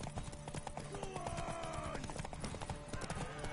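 Horse hooves clip-clopping in a video game, a quick, rhythmic clatter of steps close by, mixed with bright musical tones and faint game sounds.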